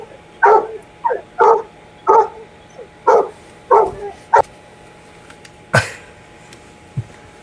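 A happy dog barks in a steady series of about seven bright, evenly spaced woofs, followed by a couple of sharper isolated yips, moderately close over a low background hum.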